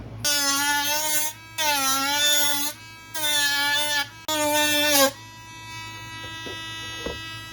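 Rotary grinder cutting down plastic windshield wipers on a cheap PVC 1/10 RC car body shell, four loud whining bursts in quick succession, each about a second long, followed by a quieter steady hum.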